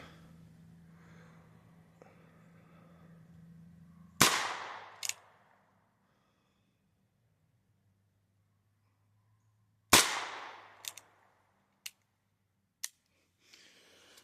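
Sharp 22LR rifle shots from a Chiappa 1873-22 lever-action firing CCI standard velocity ammunition outdoors, two widely spaced main cracks each followed by quick lever clicks and smaller metallic snaps, near and loud against quiet surroundings.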